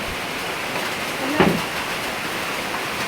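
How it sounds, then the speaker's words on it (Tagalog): Steady, heavy rain hisses evenly, with a brief louder thump partway through. "Kasi biglang umulan ng malakas"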